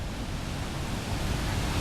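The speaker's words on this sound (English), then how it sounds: "These are about 15-foot waves." Heavy ocean swell of about 15-foot waves surges against a harbour wall, a steady broad roar of surf and spray with constant rumble and no distinct breaks, no voices.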